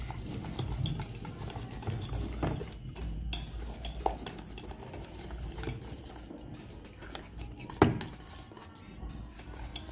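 A whisk clatters against a bowl as coffee powder is mixed into brownie batter, with quiet, irregular scraping and clinking strokes and one sharper knock near the end.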